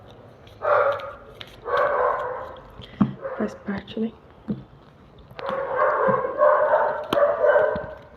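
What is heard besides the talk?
dog barking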